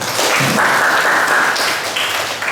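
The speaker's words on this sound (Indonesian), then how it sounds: "Kita beri tepuk tangan dulu." A classroom of students claps after a group's history presentation, a close, fairly loud patter of hands lasting a couple of seconds with a faint tonal sound running through it.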